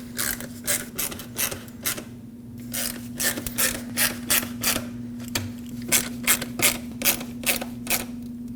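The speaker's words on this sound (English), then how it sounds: "Now put in the 3 screws that go on each side so we can re-secure the grill to the bumper cover." A hand ratchet tightens the side screws that hold the grille of a 2010-2015 Lexus RX350 to its bumper cover, giving steady bursts of rapid clicking up close, with a faint steady hum underneath.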